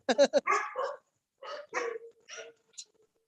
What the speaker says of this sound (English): My dog ran out of the house.